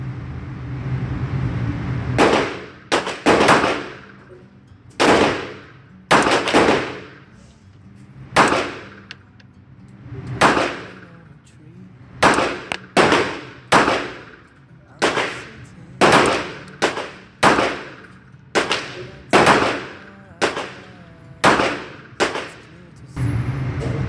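A Jericho 941 .45 ACP pistol fired at a shooting range, with about twenty loud, sharp reports spaced irregularly, sometimes in quick pairs, each followed by a brief ringing decay over quiet ambience.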